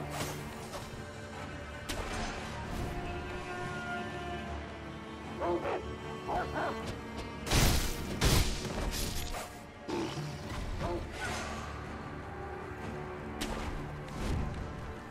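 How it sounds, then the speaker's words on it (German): Wolves bark, snarl and growl in the video game Sekiro: Shadows Die Twice, with sharp clashing hits over constant game music and someone talking intermittently. "Wölfe gibt es hier auch."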